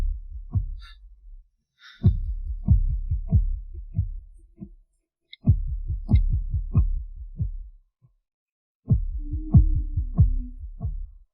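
A heartbeat sound effect in an audio drama, steady double thumps in repeated bursts separated by brief silences, loud and close with no talk over it.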